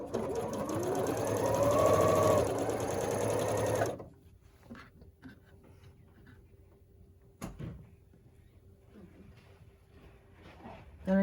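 A domestic sewing machine stitches quilt blocks in a close, steady whir for about four seconds and then stops, followed by soft fabric handling and small clicks.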